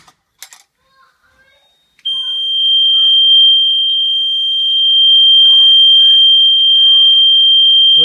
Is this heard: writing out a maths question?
no